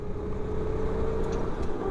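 Go-kart engine heard from onboard the kart during a race, a steady loud drone with a strong sustained tone and constant roar throughout.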